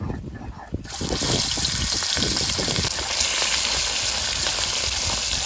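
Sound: river rohu fish frying in oil

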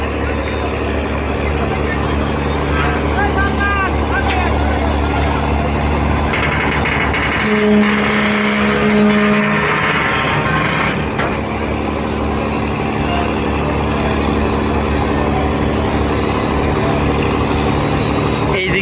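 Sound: passenger launch ferry engine and departure, Barishal river terminal

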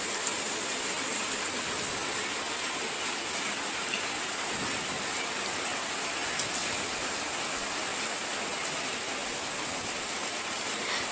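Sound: heavy rain falling

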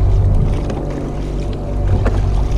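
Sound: DIY underwater kayak thruster motor running in water

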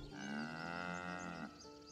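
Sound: cow mooing in the video game Baldur's Gate 3

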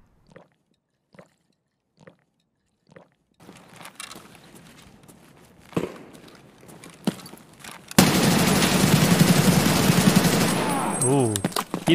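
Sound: gunshots in Escape From Tarkov video game

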